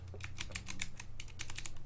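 Rapid typing on a Vortex Core compact mechanical keyboard fitted with DSA keycaps, a steady run of sharp close keystrokes with a low background hum underneath.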